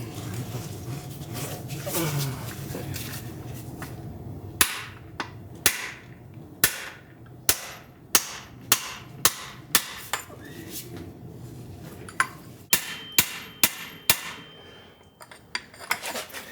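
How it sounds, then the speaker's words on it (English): A hammer strikes a steel ball joint press on a 1971 Buick Riviera suspension in a run of about a dozen loud, sharp metallic clangs at irregular intervals, after a stretch of low background noise with faint voices. "I'm just gonna hammer it."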